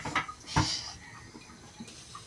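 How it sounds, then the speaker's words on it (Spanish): Eggs beaten in a bowl with a plastic fork for a sobrasada tortilla, a few soft clinking knocks against the bowl early on, then faint scraping, close and quiet with no talk. "Batimos los huevetes."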